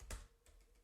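A few quick keystrokes on a computer keyboard, soft clicky taps close by in a quiet room, the first tap loudest.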